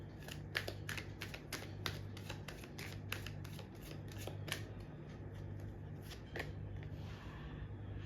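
Tarot cards are shuffled and drawn by hand, giving a quick series of crisp flicks and snaps in irregular bursts, faint and close, with a low steady hum underneath.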